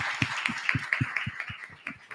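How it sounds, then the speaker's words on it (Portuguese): A small group applauds at a Brazilian book event honoring a translation collective, with a steady run of sharp, fairly close hand claps repeating about every quarter second. "Uma salva de palmas, galera!"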